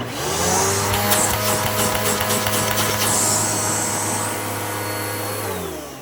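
A Simplicity S20EZM upright vacuum cleaner with a 12-amp motor runs steadily with a loud, close, constant motor drone and whine, its pitch shifting slightly as it works.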